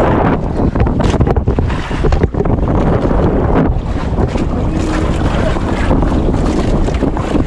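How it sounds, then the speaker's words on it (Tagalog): Loud wind blasts the microphone while waves churn and slap around a fishing boat, a constant heavy roar at sea. "Lakas ng hangin, lakas ng alon."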